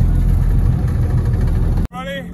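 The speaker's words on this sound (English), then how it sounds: "we are in our 2019 Polaris Ranger" A 2019 Polaris Ranger utility vehicle drives along with a loud, steady engine drone that cuts off abruptly near the end, and a voice is heard briefly afterward.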